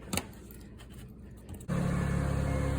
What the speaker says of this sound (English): I've started the car, and now with it just running while it's just sitting here, I've still got it in park